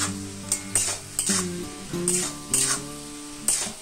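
Potato and ridge gourd being stirred in a frying pan, with a soft sizzle under clinking utensil strokes against the pan at a steady, uneven rhythm. Background music runs throughout.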